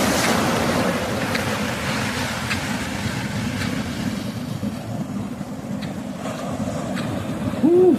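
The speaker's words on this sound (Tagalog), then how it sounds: "Grabe alon." Large ocean waves surge and wash continuously during a boat fishing trip, with steady wind and water roar close by and a brief whistle-like tone near the end.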